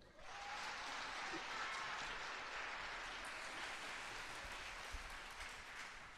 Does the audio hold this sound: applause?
yes